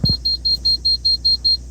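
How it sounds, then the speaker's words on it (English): A baby car seat reminder alarm gives a rapid series of high, even electronic beeps, about eight short tones in quick succession, loud and close, after a brief thump. "Beep."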